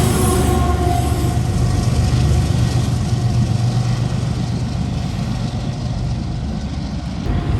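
Union Pacific freight train led by an ES44AC locomotive passing, a loud continuous rumble of engine and rolling wagons that eases slightly toward the end, with no voices.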